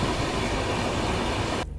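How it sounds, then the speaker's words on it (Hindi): The Bilaspur Rajdhani express train rolls past at a station, departing behind a powerful locomotive, its wheels and wagons giving a loud continuous rumble and clatter that fades abruptly at the end. "यहाँ पे पावरफुल ईओजी के साथ निकली है बिलासपुर राजधानी"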